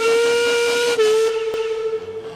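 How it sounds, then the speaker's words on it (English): A loud, sustained steam locomotive whistle with rich harmonic tones, blowing continuously for over two seconds before tapering off slightly. "Duncan whistled as loud and as long as he could"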